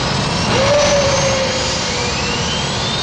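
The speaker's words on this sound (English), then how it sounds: "Time to start the engines." A jet aircraft engine spools up during start before departure, a loud steady roar with a rising whine that climbs in pitch as the engine accelerates.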